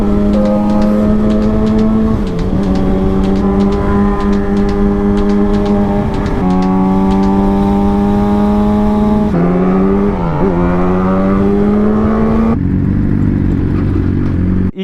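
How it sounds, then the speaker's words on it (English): Loud motorcycle engine on a ride along beach, canyon and traffic roads, droning steadily and close with shifting pitch as the rider changes gears, plus wind rumble throughout. "This bike is loud."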